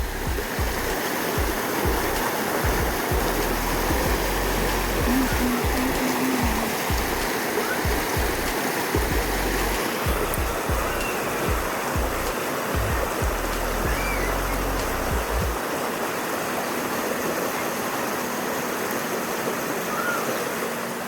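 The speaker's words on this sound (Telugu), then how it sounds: "ఆ నీళ్ళ సౌండ్ చూడండి ఎంత బాగా వస్తుందో" Constant broad rush of water flowing in a canal in front of a house, loud and steady, with low rumbling thumps during the first part that fade away later.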